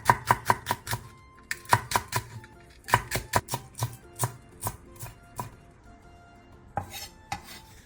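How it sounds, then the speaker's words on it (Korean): A knife chopping cheongyang chili peppers and green onion on a cutting board: quick bursts of sharp, close taps in rapid runs, with short pauses between, no voices. "청양고추 2개를 어슷썰고 대파 3분의 1개는 쫑쫑 썰어주세요."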